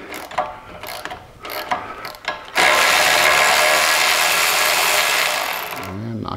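A wrench loosens blue-Loctited rear brake caliper bolts on a 2010-2017 BMW 535i F10, with clicky ratcheting and metallic clanks first, then a loud sustained rasping burst of several seconds, close up, with brief speech-like sounds near the end.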